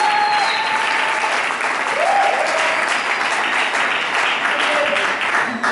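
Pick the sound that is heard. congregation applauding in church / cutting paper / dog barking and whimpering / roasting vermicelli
congregation applauding in church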